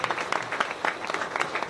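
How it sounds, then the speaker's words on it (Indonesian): An audience at an Indonesian community gathering breaks into brisk, dense applause, with many hands clapping close together for a short burst. "Tepuk tangan semua"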